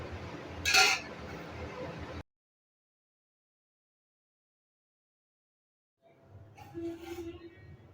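A spoon stirs pulao rice in a cooking pot, giving a few close metallic clinks and scrapes. The sound breaks off into several seconds of silence, then soft stirring noises return.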